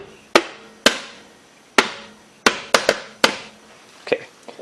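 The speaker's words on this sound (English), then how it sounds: "I'm using a soft rubber hammer to hit this one." A series of sharp soft rubber hammer strikes on a Briggs & Stratton engine's metal, eight or so knocks in uneven rhythm, close and clear, each with a brief metallic ring.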